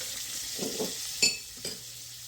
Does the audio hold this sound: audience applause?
no